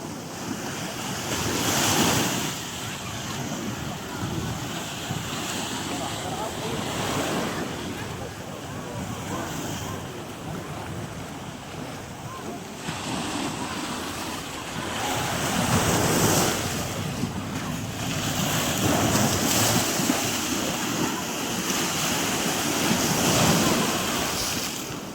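Sea waves roll in against the shore beneath Qaitbay Citadel in Alexandria at night, surging and receding in a slow rhythm. Gusts of wind buffet the microphone throughout.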